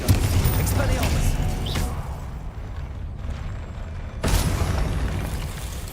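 A Confringo fire spell explodes in the Hogwarts Legacy video game with a loud, close blast and rumbling decay, then a second burst hits a few seconds later.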